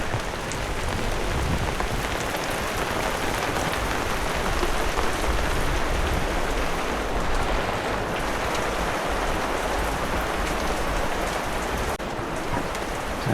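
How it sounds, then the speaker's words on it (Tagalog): Steady rain pours down nearby, a dense, even patter on surfaces that continues unbroken throughout, with no voices. "Ayan, dati ganyang ulan."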